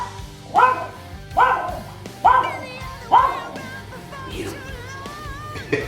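A dog named Scooter barks in a sharp, repeated series of about five loud woofs at a steady rhythm, close by, with faint speech underneath. He is not friendly with other dogs.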